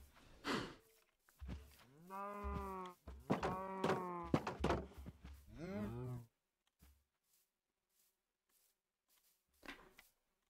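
A cow in the Minecraft video game lets out several loud, close moos in quick succession, followed by a few soft thuds and a last short sound near the end.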